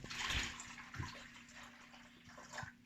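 Children pour water into a plastic bag for a leak-proof bag experiment, soft gurgling splashes and trickles coming in small bursts, fairly quiet.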